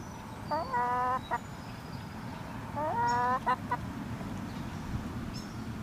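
Chickens cluck in two short bursts of rapid, rising calls a couple of seconds apart, over a low steady background hum.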